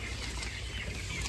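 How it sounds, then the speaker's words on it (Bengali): Farm chickens clucking softly and continuously at close range as they are taken out of the poultry shed, a steady low murmur of fowl with no talk. "এখন এই যে মুরগিগুলো বের করছে"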